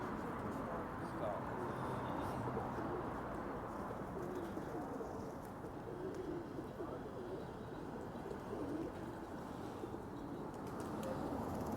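Pigeons cooing on a downtown Toronto street, soft and partly buried under steady traffic and city background noise, with people talking nearby.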